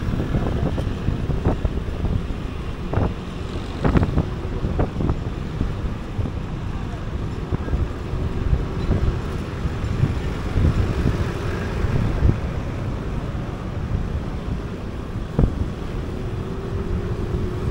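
Strong gusting wind buffets the microphone with a low roar near Olongapo and Subic, Philippines, punctuated by occasional thumps and knocks, and faint talk underneath.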